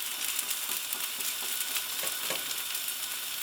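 Bubble and squeak, the English leftover dish, frying in a pan as its base browns: a steady, fairly soft hiss of sizzling fat with a few faint stirring or spatula touches, no voices.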